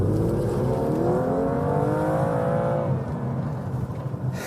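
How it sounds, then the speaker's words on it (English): A 2016 BMW M2 holds a high, strained engine note with a howling whine that drops off after a few seconds, loud and close, with no talking. "I've just executed what is apparently called a smoky burnout"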